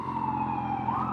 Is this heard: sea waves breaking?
no